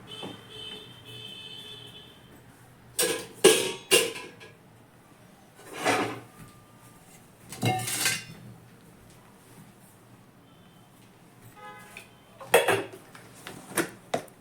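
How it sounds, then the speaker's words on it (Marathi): Vegetables cooking in a pan after garlic is fried first, with a metal spatula clanking and scraping against the pan in scattered bursts over a quiet background. "चला तर आता आपण ही भाजी शिजून घेऊया"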